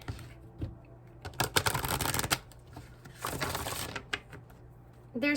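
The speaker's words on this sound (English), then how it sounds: "Let me do one more shuffle here." A deck of tarot cards is shuffled by hand in quick riffling bursts, two longer crisp rustles with lighter taps and flicks between them, close and fairly quiet.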